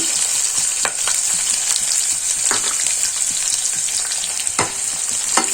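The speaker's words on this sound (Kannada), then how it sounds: "ಈರುಳ್ಳಿನ ಚೆನ್ನಾಗಿ ಫ್ರೈ ಮಾಡ್ಕೊಳ್ಳೋಣ ಅದು ಸ್ವಲ್ಪ ಬ್ರೌನಿಶ್ ಆಗಬೇಕು" Onions fry in a pan for a millet and fenugreek dish, giving a loud, dense, steady sizzle close up, punctuated by a few sharp stirring scrapes.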